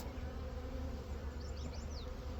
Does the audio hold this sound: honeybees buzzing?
yes